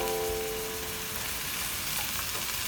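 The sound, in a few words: mixed peppers added to sizzling onions in a pan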